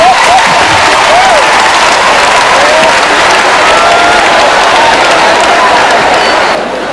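Applause and cheering from a comedy-show audience fill the room loudly and steadily, a dense wash of clapping with whoops that carries on throughout before tapering at the very end.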